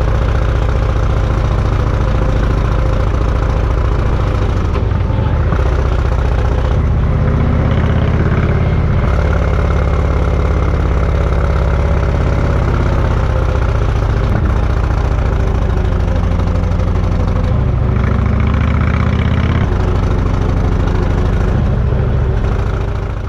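A motorcycle engine runs steadily and loud throughout a climb over the Nassfeld and Wurzen mountain passes, droning low with rising and falling revs as the bike accelerates and shifts through tight bends.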